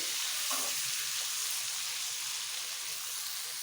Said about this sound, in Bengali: বেগুনগুলোকে একটু হালকা করে ভেজে নিতে হবে, বেশি কড়া করে ভাজলে খেতে ভালো লাগবে না।